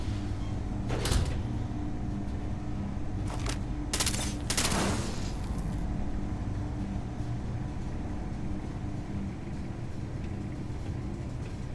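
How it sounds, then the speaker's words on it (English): Gunfire crackles in the space video game Starfield, a few sharp bursts clustered early followed by a low steady hum and faint background ambience. "Must be gunfire going on."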